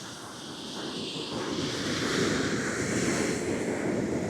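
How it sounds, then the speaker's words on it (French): Large Atlantic ocean swell waves break continuously in a broad, roaring wash of surf that builds slightly louder. Light wind noise hits the microphone, and no one talks. "il y a des vagues incroyables."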